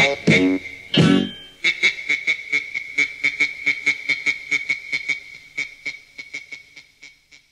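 Rapid quacking in a children's song, two loud calls followed by a long steady series of clipped, evenly spaced quacks that fade slightly, up close and alone.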